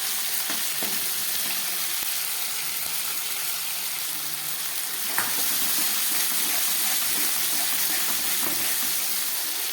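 Spoonful of tomato going into a pan of frying egg and potato curry, with a steady, close sizzle and hiss from hot oil, light stirring clicks, and a soft thump partway through.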